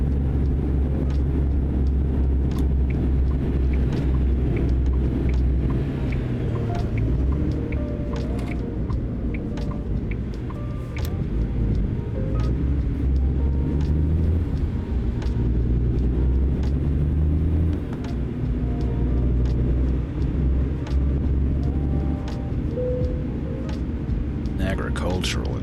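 A cement truck drives in American Truck Simulator, its engine a steady, deep rumble that continues throughout with small shifts in pitch.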